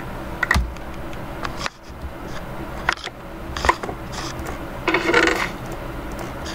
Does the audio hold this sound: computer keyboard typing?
yes